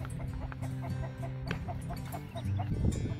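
Several backyard chickens cluck in short, repeated bursts close by, with a denser flurry of clucks near the end, against a steady rustling background.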